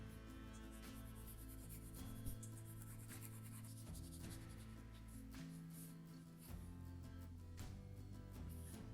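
Faint scratchy strokes come from drawing on wet paper in a sketchbook, repeating in short bursts over a low, steady tonal background without any talking.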